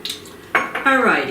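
Salt goes into a mixing bowl for keto corn muffins, with short, close clinks and ringing taps of a spoon against the bowl, several quick knocks followed by a brief resonant ring.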